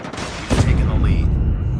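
Call of Duty gunfire erupts in a loud, sharp burst of shots and a booming impact, followed by sustained rumbling battle noise, up close and heavy.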